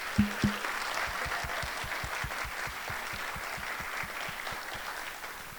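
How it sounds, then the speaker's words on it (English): A crowd at a club's show applauds its seniors, a sustained, dense wash of clapping with a couple of sharper claps at the start and no talking. "Round of applause."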